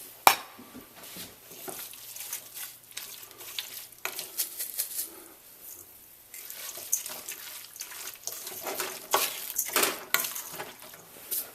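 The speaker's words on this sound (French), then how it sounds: "On fait juste mélanger le tout" Chicken pie filling of braised chicken thighs is stirred together with breadcrumbs, giving soft scraping and wet clicking stir sounds in irregular bursts, fairly quiet and close, with no talk.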